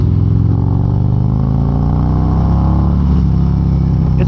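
A Harley motorcycle engine with a slip-on exhaust rumbles loud and close, a deep continuous throb with a slight pitch rise as it pulls.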